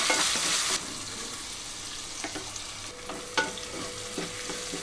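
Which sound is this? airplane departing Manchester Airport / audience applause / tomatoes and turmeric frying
tomatoes and turmeric frying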